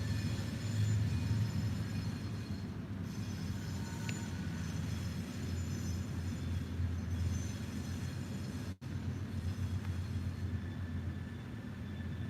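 A train passing at a distance near a thrift store workspace gives a steady low rumble and faint wheel noise that lasts throughout, with no talk over it.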